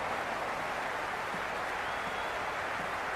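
A cricket stadium crowd applauds in a steady, dense wash of clapping that stays even and fairly distant throughout.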